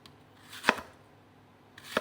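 Knife chopping apples for apple turnovers, two sharp separate cuts on a board spaced over a second apart, close and clear against a quiet background.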